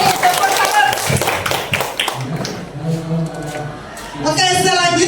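Rhythmic group clapping of a 'tepuk salam' cheer led for Bu Heni at a school teachers' dissemination session, several quick patterned claps in the first couple of seconds, followed by voices talking and chanting.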